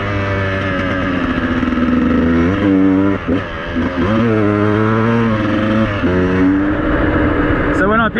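A Beta 200RR dirt bike engine, close and loud, revs in repeated rising and falling bursts with a rapid buzzing two-stroke tone, briefly easing off near the end.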